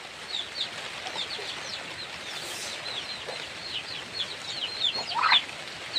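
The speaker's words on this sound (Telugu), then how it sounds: "ఇది రసంగి పెట్ట" A hen on a poultry farm clucks in short, soft bursts amid faint chirping and ambient farmyard noise, fairly quiet and without speech.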